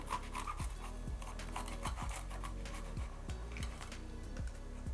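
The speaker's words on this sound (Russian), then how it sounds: "Также соломкой нарезаю 1 крупный болгарский перец. Вырезаю сердцевину с семенами." Steady crisp knife strokes slicing a large bell pepper into strips on a cutting board, about a dozen evenly spaced chops, soft and close.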